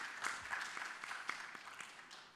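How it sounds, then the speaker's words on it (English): An audience at a city council candidate forum gives a brief round of applause, a soft, fairly distant smattering of claps that tapers off toward the end. "By a round of applause,"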